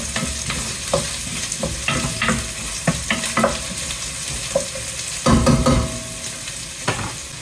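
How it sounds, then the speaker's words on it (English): Roughly chopped onion with garlic sizzles steadily in a hot pan, with repeated scraping stirs and a few louder clattering bursts over the constant frying hiss. "we've got some onion, again, sort of rough chopped onion. We're going to put that in there and let that do its thing for a moment."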